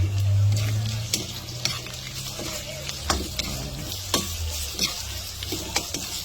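Pork belly sizzles and is stirred in a pan, with a steady frying hiss and repeated scraping taps of a utensil. A low rumble opens the sound, and there is no talk.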